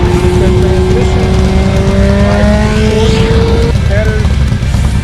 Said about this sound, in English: Kawasaki Mark II. Got a 1260 kit in it.